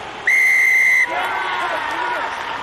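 A referee blows one sharp, shrill whistle blast lasting about a second during a Pro14 rugby match between Connacht and Ulster, then a stadium crowd murmurs on in the background.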